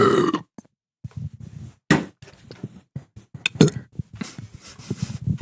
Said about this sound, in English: That was like a little pooty burp.